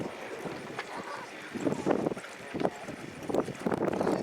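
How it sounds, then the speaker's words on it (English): A cantering horse, one that also races at a track, with soft rhythmic hoofbeats in repeated bursts over wind and outdoor background noise. "This is a nice cantering horse."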